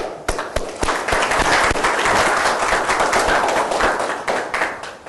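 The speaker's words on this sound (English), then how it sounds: "I'd like to have a wave of applause for these three organizers" Audience applause for three organizers at a physics lecture, with loud, steady clapping from a seated crowd and a few sharper, closer claps standing out at the start and end.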